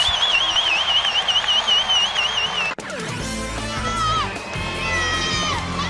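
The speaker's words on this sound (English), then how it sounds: "Let the crowd take you to break here in Las Cruces." A basketball arena crowd in Las Cruces roars and cheers during a timeout, with loud sustained noise, whistling and shrill tones over it, then a sudden shift to dense organ-like music and crowd din.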